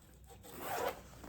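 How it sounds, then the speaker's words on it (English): Zipper on the top closure of a medium-sized leather designer tote bag pulled open or shut, a single soft, close rasp swelling briefly in the middle of a quiet room, with no talk. "It does have a zip top closure."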